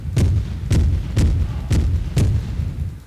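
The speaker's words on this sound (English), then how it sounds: "you right click with ammo in your hand and it'll shoot it out" A gun fires ammo in Minecraft with the Flans Mod, five loud booming shots at a steady pace of about one every half second, each a heavy thump with a short tail.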